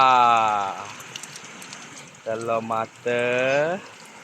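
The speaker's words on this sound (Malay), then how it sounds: "Goreng telur mata." Eggs sizzle and crackle steadily in a hot pan at a campsite kitchen while a person talks over the frying in short bursts.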